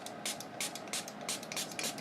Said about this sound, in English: and then let's spray it with water